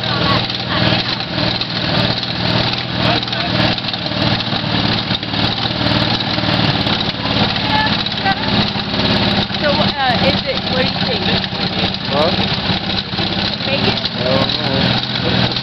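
A 1973 Volkswagen Van engine runs steadily with a buzzing, even drone throughout, loud and near, while people talk over it.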